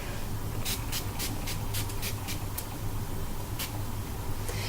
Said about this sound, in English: the MAC Fix Plus does spray a little bit of a finer mist